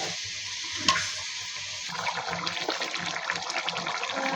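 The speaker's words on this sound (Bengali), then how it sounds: "দিয়ে দিব ঝোলের জন্য পরিমাণ মতো পানি" Water is poured into a pan of Bengali hilsa fish curry with a splashing, running stream that starts softly and grows busier, over a faint background sizzle.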